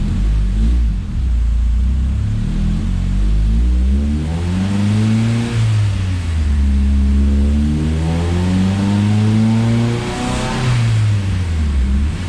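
A Honda Civic with a hybrid engine swap, E85 fuel and high compression revving on a dyno during third-gear pulls, a loud close engine roar climbing and dropping in pitch several times.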